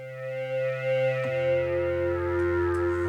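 Synthesizer pad with reverb added, sustained layered tones gliding slowly and swelling, a shift partway through and a reverberant tail ringing on, with no voices.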